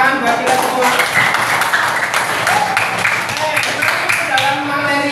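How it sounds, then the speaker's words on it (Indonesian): A classroom of students applauding together, steady dense clapping from many hands with voices mixed in throughout. "Tepuk tangan buat kita semua."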